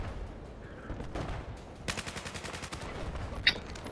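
Battlefield 4 gameplay gunfire: a rapid automatic burst of evenly spaced shots at moderate volume, preceded by a few scattered single shots, with no talking over it.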